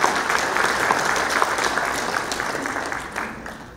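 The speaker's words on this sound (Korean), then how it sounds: "우리 클럽 라이온께서는 뜨거운 박수로 담겨주시기 바랍니다." Sustained applause from an audience at a Lions Club anniversary ceremony in Masan, a dense steady clapping that fades slightly toward the end.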